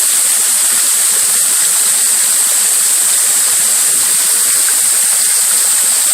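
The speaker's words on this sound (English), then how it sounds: "It's pouring down raining." Heavy rain pouring down outdoors over crops and a parked car, a dense, constant hiss of falling water that stays loud and even throughout, with no voices.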